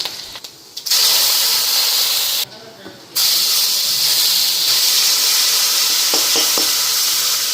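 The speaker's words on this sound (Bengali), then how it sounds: "মশলাটা এখানে ভালো করে ফ্রাই করে নিই" Loud, steady sizzling of spices such as dried chilli and bay leaf frying in hot oil in a wok, with brief drops in the hiss and a few light clinks of stirring near the end.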